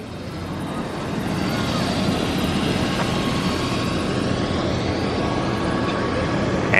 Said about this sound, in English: they got the helicopter starting up right now.